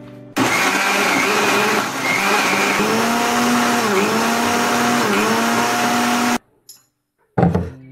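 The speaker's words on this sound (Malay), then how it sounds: "Okey, ni kita blender." A kitchen blender grinds dried chillies with belacan shrimp paste, starting with a loud, steady whirring roar whose pitch dips briefly as the load shifts. It cuts off abruptly, and after a pause it starts again in a short burst.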